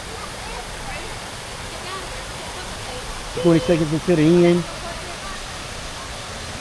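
A waterfall or stream rushes in a constant broadband roar near at hand, with a voice speaking briefly over it in the middle.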